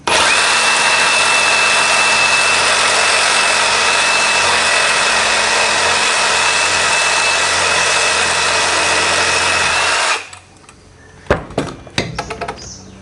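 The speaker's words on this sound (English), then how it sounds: "So I've got the old Ryobi reciprocating saw" A Ryobi reciprocating saw cuts through beef shin bone with a loud, steady, close buzzing drone for about ten seconds, then stops abruptly, leaving a few scattered knocks and clatters.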